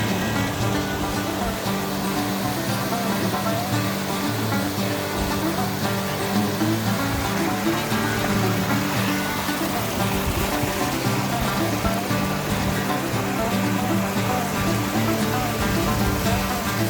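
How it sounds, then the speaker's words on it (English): Bathtub Falls in the Wichita Mountains, a waterfall pouring steadily with a dense, loud, unbroken roar of rushing water heard up close, no voices. "We have made it to Bathtub Falls."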